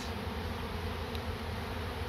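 Honey bees shaken off a tree colony into a hive box make a continuous close buzzing hum, even and unbroken, with no voices over it.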